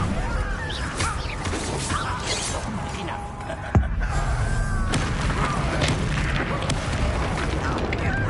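A Bombarda spell explosion in a Harry Potter video game, heard as a sharp boom partway through, followed by rumbling crash and debris over continuous game ambience.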